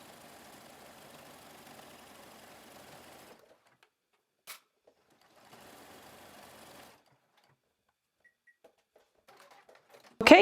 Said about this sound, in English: we're gonna baste this at a 1/4 inch seam allowance